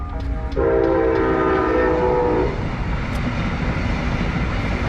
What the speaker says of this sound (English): Got the train in the background, which is pretty nice.